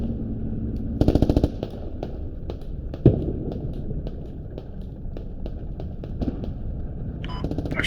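Machine gun fire from a Canadian gunner in the video game Squad on the Narva map: a sharp rapid burst early, a heavy single blast, then a string of spaced single shots and distant pops over a constant rumble.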